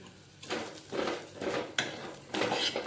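Metal spoon scraping and clattering in a pan as masala is stirred into samosa filling, with repeated scrapes and one sharp clink, close and fairly quiet.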